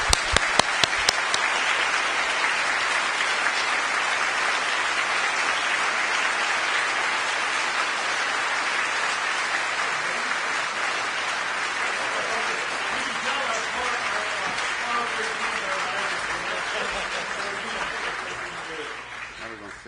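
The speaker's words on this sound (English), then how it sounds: "Please join me in a round of applause for them." A university audience gives a round of applause for staff, dense sustained clapping that fills the room evenly for most of the time and then thins out near the end.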